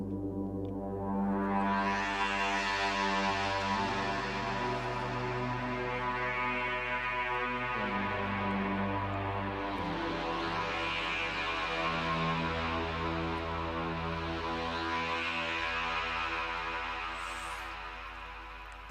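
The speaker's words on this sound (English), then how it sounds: "Okay, so this is the guitar-like sound." A slightly tweaked guitar-like preset on a Bliss Alpha synthesizer plays sustained, buzzy, harmonically rich tones over a steady low drone. Notes swell and shift slowly over about nineteen seconds at moderate level, with no talking.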